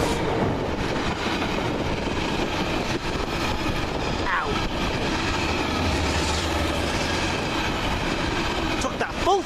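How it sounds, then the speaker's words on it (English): A Freightliner class 66 diesel, number 66511, hauls a coal train past at Ulleskelf, giving a steady, loud rumble of wagons throughout with a brief wheel squeal near the end, while voices talk over it. "Here comes another coal train."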